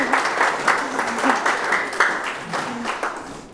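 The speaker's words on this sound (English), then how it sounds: "Round of applause for Sam," Wedding guests applaud during a ring exchange, a moderate patter of clapping with a faint voice running underneath throughout.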